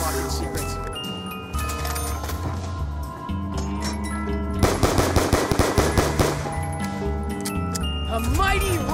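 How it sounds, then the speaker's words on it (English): A ray gun fires rapidly in a zombie shooter video game, a dense stream of sharp, repeated blasts over layered music and effects, loud and continuous, with a character voice speaking over it. "A mighty ray gun! Such power packed into a petite package!"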